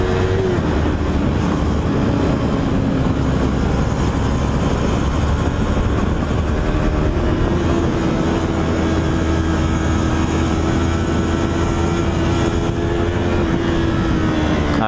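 Sport motorcycle riding on a road, its engine a loud, continuous drone with a steady tone that rises and falls slightly under heavy wind roar, close and unbroken throughout.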